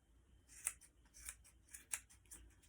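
Scissors snip and trim a yarn pom-pom, giving four or five quiet, crisp cuts spaced about half a second apart, close up in a hushed setting.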